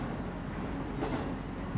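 Train ride near Mount Yufu in Kyushu, Japan: a low, steady rumble of the moving carriage, quiet and continuous, with faint wheel and track noise and no voices.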